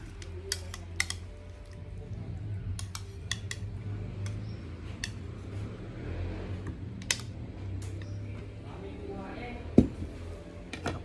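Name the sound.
cutlery and dishes while eating paksiw na tawilis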